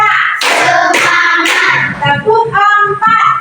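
A class of students stands and claps their hands together in counted rhythmic bursts, loud and sharp, with voices chanting along between the claps.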